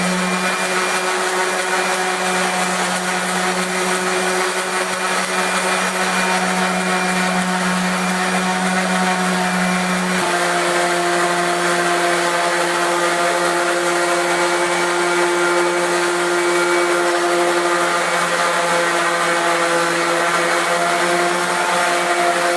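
An orbital floor sander works a pre-finished wood floor with a loud, steady motor drone and whir, its hum holding constant throughout and shifting pitch slightly partway through, close up with no speech.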